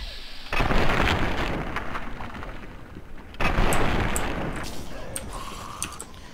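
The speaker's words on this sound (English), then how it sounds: "let's shoot you in the leg" Two heavy booming gunshots, spaced about three seconds apart, ring out as an enemy is shot in the leg in Fallout 3, each followed by a decaying rumble and small clicks.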